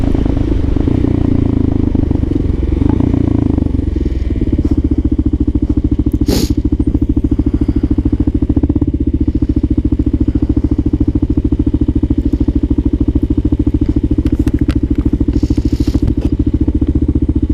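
An electric motorcycle in motion gives a steady, loud whirring hum with continuous road and wind rumble, broken by a sharp click and a few faint clatters, with no speech.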